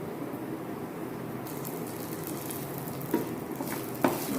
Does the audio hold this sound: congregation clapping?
no